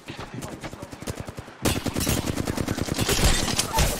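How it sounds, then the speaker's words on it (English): Rapid automatic gunfire in a battle royale shooter, a fast rhythmic string of shots that starts quieter and distant, then jumps to loud, close bursts. "Oh, yeah, I'm getting shot at."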